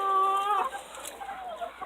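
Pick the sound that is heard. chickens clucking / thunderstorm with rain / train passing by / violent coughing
chickens clucking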